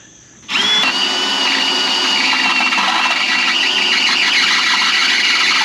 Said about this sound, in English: I'm also using my dullest drill bit.